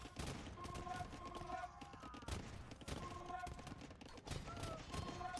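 Hand cannon gunfire in a competitive video game match, heard as dense, rapid bursts of repeated shots layered with game effects and voice chatter throughout.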